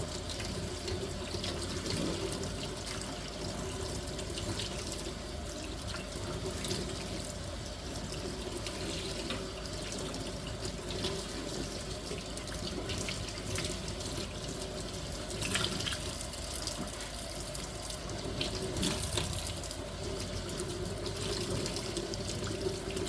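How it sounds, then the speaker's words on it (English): Tap water runs steadily into a sink while soap is rinsed out, a continuous close splashing hiss with slight shifts as items move under the stream, no voices. "I just want to make sure I get all that soap out."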